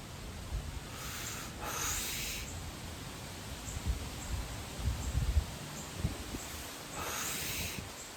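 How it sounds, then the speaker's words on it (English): Wind blowing outdoors just before rain: a faint, steady broadband rush with gusty swells and low buffeting thumps, as if striking a nearby microphone, with no talk. "it's a little bit windy right now, and so I'm getting that wind on me"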